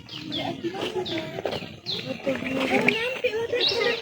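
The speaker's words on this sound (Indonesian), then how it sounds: "Oh, ini mungkin burung yang ada di sini nih." Birds call and chirp continuously at a tourist park in Takengon, with overlapping sharp cries and squawks, fairly loud and close, with voices mixed in among them.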